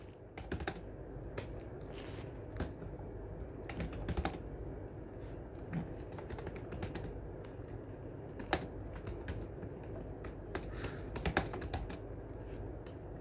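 Steady typing on a computer keyboard while filling in income tax return details, with quick irregular key clicks and occasional louder strokes running throughout, no talking.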